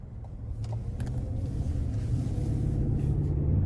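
A 2025 Cadillac Escalade ESV pulls away at the start of a test drive, a low steady engine rumble and road noise building gradually from inside the cabin.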